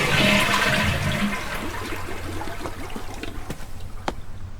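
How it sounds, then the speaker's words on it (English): Hot water rushing from a bath geyser tap in the game Botany Manor: a loud, steady gush at first that settles into a softer trickling flow, heard up close with no voices. "The bath geyser provides rapid flow of hot water."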